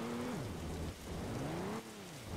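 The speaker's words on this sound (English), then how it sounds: "it's raining" Steady rain falls in a Roblox game world, a soft continuous hiss under a low, gliding droning tone, with no one speaking.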